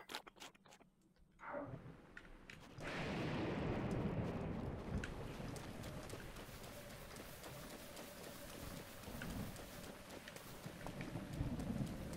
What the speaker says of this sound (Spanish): Ya va a pasar la lluvia, así que vamos otra vez para arriba.